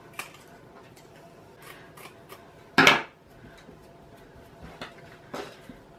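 Scissors trimming the edges of a summery floral fabric pocket wall hanging, one sharp close snip standing out midway among faint scattered clicks and handling noises in a quiet room.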